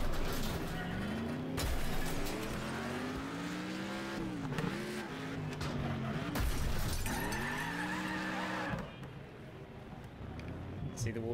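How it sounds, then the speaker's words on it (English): In the racing game Next Car Game, cars rev and skid while a wall gets smashed, engine tones rising and falling under loud crunching impacts and shattering debris, and someone talks over the action. "See the wall destruction there?"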